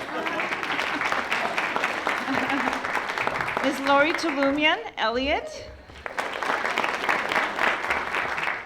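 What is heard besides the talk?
audience applause for school principals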